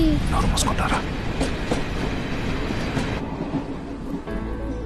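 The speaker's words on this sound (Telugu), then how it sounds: "అది ట్రైన్ వచ్చేసింది." A train rumbles steadily close by with rhythmic rail clatter, a heavy continuous roar of wheels on track that eases slightly toward the end.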